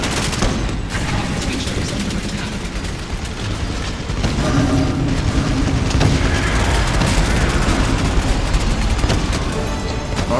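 Rocket launcher blasts and rapid gunfire in a shooter video game, continuous loud bursts of shots and booms with layered explosions throughout.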